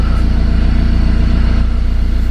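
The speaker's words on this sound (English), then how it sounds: "start the car." BMW 2 Series F46 218d diesel engine running after a start with an engine management light on, a loud, steady low rumble heard close from inside the car.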